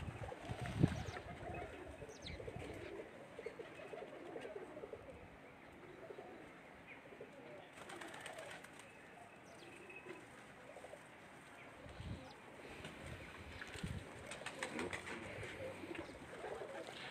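Pigeons on a rooftop loft give soft, faint coos and occasional wing flutters, quiet and scattered against a low outdoor background with brief bursts of noise.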